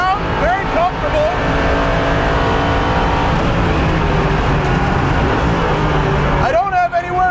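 A 2015 Chevrolet Camaro Z/28 race car runs flat out on a track, its loud steady engine roar filling the cabin throughout, with a driver speaking over the drone.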